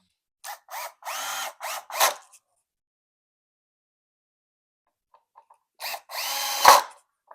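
A power drill drives screws into scrap wood while building a small bike rack: several short whirring bursts in quick succession, then a pause, then two more bursts with a final louder surge, close and loud.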